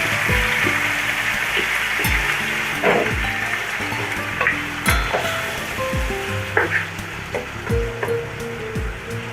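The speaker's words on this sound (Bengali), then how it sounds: "এখন আমি এই যে ম্যারিনেট করা মাংসটা এর মধ্যে দিয়ে দিব।" Marinated beef hits fried onions in a pot for Dhaka-style Haji beef biryani, giving a loud, continuous sizzle and hiss with scraping stir strokes and thuds from a spoon throughout, and no talking.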